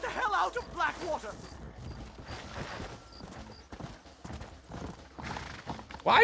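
Horse hooves gallop in Red Dead Redemption while riders flee Blackwater, a rapid rhythmic clatter of hoofbeats running throughout, mixed with game noise and voices talking over it.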